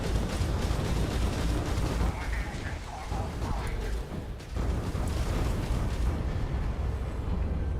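Spaceship turrets fire in a space battle in the game Starfield, a dense, continuous roar of blasts and rumbling bursts, loud and sustained, with a voice faintly heard at times.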